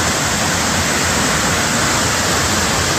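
The Rautwadi waterfall at Dajipur roars in a dense, steady rush of falling water, loud and close, with no break or other sound.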